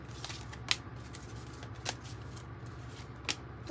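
Sci-Fi Tarot cards being shuffled by hand, a soft papery riffle with several sharper snaps of cards striking together, close and fairly quiet, with no talking.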